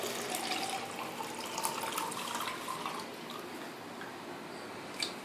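Juice from a brown coconut pouring through a small cut spout into a container, a steady splashing trickle that runs continuously with a brief louder splash near the end.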